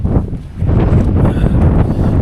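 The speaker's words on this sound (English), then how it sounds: "I just need to get out of this wind." Strong wind roars across an exposed mountain summit in the White Mountains' Presidential Range, a loud, continuous gusty rush buffeting the microphone with no voices.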